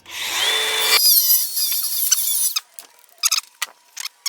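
Power tool cutting through the steel exhaust pipe of a Mk7.5 Golf GTI for a backbox delete: a loud, steady grinding screech for about a second, then a high whine fading to intermittent short squealing bursts as the cut finishes.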